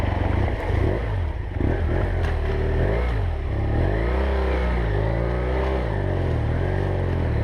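A BMW F800GS motorcycle engine runs steadily while riding, a loud continuous drone with shifting pitch as power rises and falls, joined by wind rush throughout.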